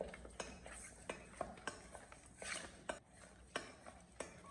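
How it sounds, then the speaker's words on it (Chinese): Fish slices marinated with salt, sugar and starch being stirred by hand in a bowl, with soft repeated clinks and scrapes of a utensil at a quiet, steady rhythm; no voices. "我们将它持续的搅拌大概1分钟左右，给它搅拌至有点黏黏的、滑滑的就可以。"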